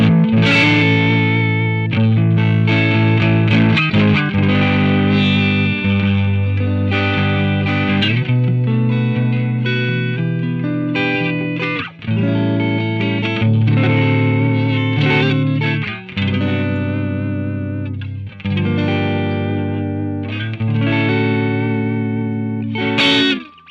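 Electric guitar played through the default amp simulator tone of Amplitube 5 Max, a loud, continuous distorted riff with chords and single notes, steady rhythm and a few short pauses, alone with no talking.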